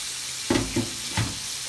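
Scallions, thyme and pepper stirred into a cooking pot for rice, giving a few soft scraping stirs over a low steady background, close and fairly quiet.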